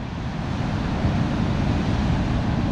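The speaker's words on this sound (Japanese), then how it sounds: "波って怖いね。" Ocean waves break near a rocky coastal shore in a loud, continuous roar of surf, with wind noise rumbling across the microphone and no voices.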